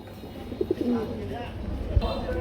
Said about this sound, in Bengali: কি অমায়িক ডাক মধুর ডাক খুবই সুন্দর